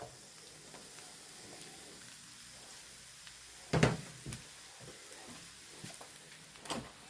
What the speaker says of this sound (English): Let's throw the onions in.